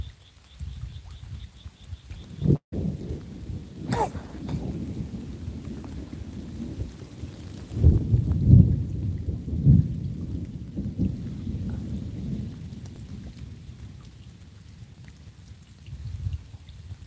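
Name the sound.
thunderstorm with thunder and rain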